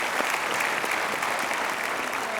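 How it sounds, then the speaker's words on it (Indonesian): An audience applauds a mother at an education achievement event, steady sustained clapping filling the room evenly from start to finish without pause. "Kita berikan aplaus untuk sang ibu."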